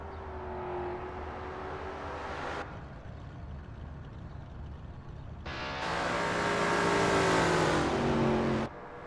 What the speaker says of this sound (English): The engines are revving up and the drivers are ready to hit the gas pedal for this qualifying session at Riverside NASCAR